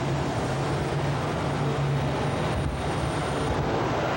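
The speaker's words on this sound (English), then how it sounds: "we're just about ready to take another jet-propelled trip at 250 miles an hour" Jet-powered funny car at a 1987 drag race, a loud continuous roaring jet blast with broad rushing noise and a low steady hum, unbroken for a few seconds, no voices.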